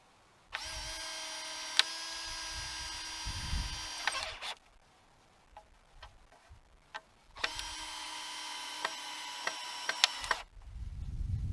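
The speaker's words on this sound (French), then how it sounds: "Et puis, on les visse ensemble." Power screwdriver driving wood screws into trellis timber for a vegetable garden, two sustained whining runs of about four and three seconds, each ending with a clunk, with small handling knocks between, close and loud.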